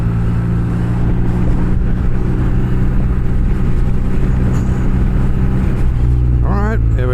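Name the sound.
car overtaking a BMW R nineT motorcycle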